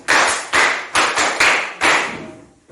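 Children in a literacy class clap together for themselves after a teapot song, five loud, roughly evenly spaced group claps, each ringing briefly before the next, the last fading out.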